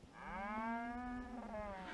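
A cow, part of a cow and calf pair being moved on horseback, gives one long, drawn-out moo that rises slightly and then falls, heard at moderate distance with no voices.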